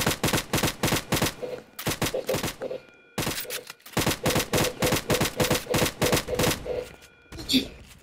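Rapid bursts of video game gunfire from a Roblox shooter crackle in dense, loud volleys, with short pauses between strings of shots and a final scattered burst near the end.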